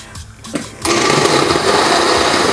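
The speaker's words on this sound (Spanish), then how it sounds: "Y ahora sí, a licuar." A kitchen blender whirs on loud and steady, blending Peruvian huancaína sauce with evaporated milk and fresh cheese, after a short quiet moment with a few faint handling sounds.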